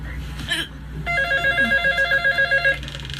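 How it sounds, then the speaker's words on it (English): A telephone rings with a rapid electronic trill, repeating in quick even pulses for about two seconds, loud and close after a brief rustle, with no voices over it. "Phone is ringing."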